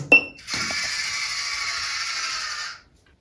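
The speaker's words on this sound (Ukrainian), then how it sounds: "Зараз я вимкну центральне водопостачання, закриваємо кран." An apartment's main water supply valve in a multistorey building is shut: a sharp metallic click, then a steady, fairly loud hiss of rushing water for about two seconds that cuts off abruptly.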